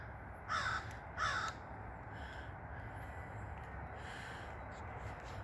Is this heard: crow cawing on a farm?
yes